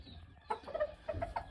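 Broody hens in a backyard coop pen give low, soft clucks, a few short grunting calls spaced across a second and a half, faint and close with quiet barnyard background.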